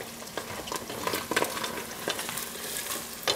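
Meat for chili cheese nachos frying in a pan on a stove, a steady close sizzle broken by scattered scrapes and stirring knocks, with no talk over it.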